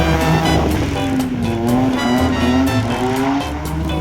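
A car slides through a drift with a loud, sustained tire squeal, a rising and falling whine over steady engine roar, close and continuous.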